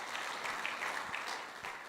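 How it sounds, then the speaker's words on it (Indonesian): A church congregation applauds during a Pentecostal sermon, a steady wash of many hands clapping at moderate distance with no voices over it. "Kasih tepuk tangan kepada Tuhan."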